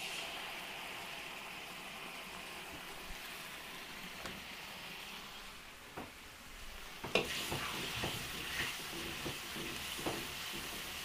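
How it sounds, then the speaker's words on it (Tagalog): Tomato sauce sautéing in a pan sizzles steadily and quietly, with a few sharp clicks and clatters of utensils as it is stirred near the end. "Gisa rin po tayo tomato sauce"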